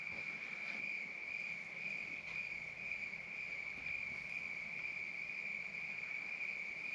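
Cicadas buzz at a hilltop campground in Charleston, one steady, loud, unbroken drone that holds through the whole stretch with no pauses and no voices.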